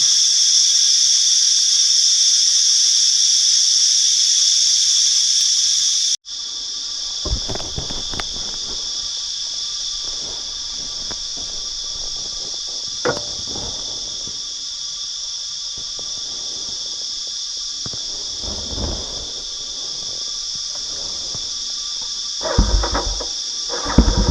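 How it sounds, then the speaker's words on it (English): Loud, continuous cicada buzzing drones at a high pitch throughout on a hot, humid day, unbroken and pulsing slightly, with occasional soft footsteps and rustles beneath it. "Man, those cicadas are so loud."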